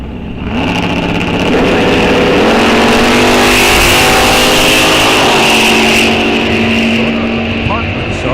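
A 1963 Chevrolet Nova SS drag car accelerates hard and loud up close, its engine note climbing in clear stepped surges as it pulls through the gears, with crowd noise around it.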